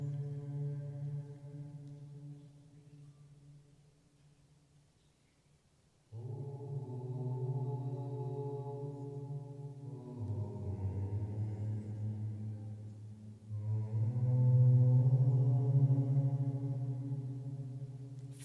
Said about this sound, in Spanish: El eco de la voz humana en las paredes de la cámara del rey suena así.